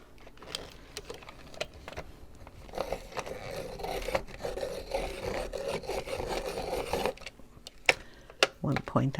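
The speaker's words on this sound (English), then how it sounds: "I'm going to sharpen the white." A white Brutfuner colored pencil grinds in a sharpener with a soft, scratchy rasping that runs for several seconds amid small handling clicks, fairly close and quiet.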